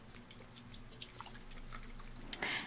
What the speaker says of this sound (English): Makes a nice jiggly sound as well, like water liquid.